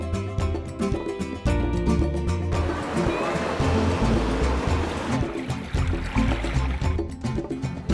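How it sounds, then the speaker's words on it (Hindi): Calm sea waves wash against the shore at North Bay Island in the Andaman Islands, a continuous rolling surf with soft swells and fizzing foam, fairly close and without talk. "शांत समंदर, लहरों की आवाज़"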